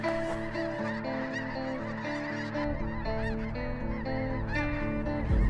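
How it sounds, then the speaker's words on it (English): Snow geese honking in a dense, continuous chorus as a flock flies overhead during a hunt, many overlapping calls at moderate distance with no talk. "snow geese were trying to come in"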